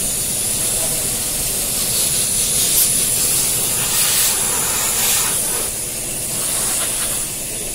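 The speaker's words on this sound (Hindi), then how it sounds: "देख सकते हैं फ्रेंड पूरे 2 लीटर डीजल इसमें गए हैं स्प्रे में हमारे वॉश करने के लिए इनका इंजन का।" Steady, loud hiss of diesel sprayed onto the engine of a Maruti Suzuki S-Cross to wash it, running continuously with a faint voice under it.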